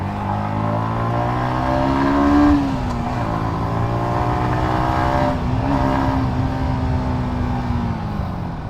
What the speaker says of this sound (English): I've just started the bike for the first time. I'm riding it.